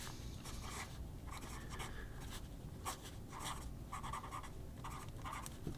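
A broad, wet Yowo-nib fountain pen scratches across paper in short strokes and pauses, a soft dry rustling with pencil-like feedback, close and quiet with no talking.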